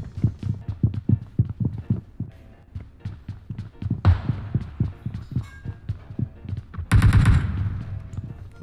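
Rapid bursts of gunfire from a teammate in the mobile shooter PUBG Mobile, steady repeated shots at close range with a louder burst near the end and no talk.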